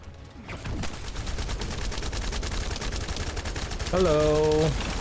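Rapid automatic gunfire in the shooter game The First Descendant, a dense continuous rattle of shots with a rising tonal game effect near the end.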